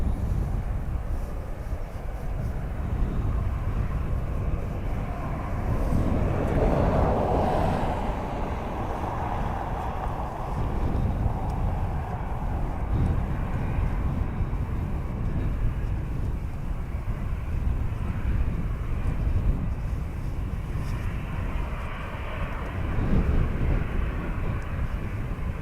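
Ryanair airliner departing Dublin Airport bound for Milan, a broad, steady engine rumble that swells gently around the middle and stays fairly distant and continuous throughout, with no voices.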